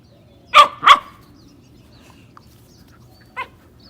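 Puppy playing with adult dogs: two sharp close barks in quick succession, then a quieter single bark a few seconds later over a faint background.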